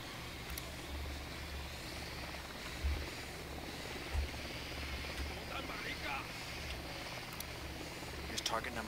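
A drone in the video game Ghost Recon Wildlands gives off a steady, low rotor drone that hums faintly beneath a voice and a few light thumps.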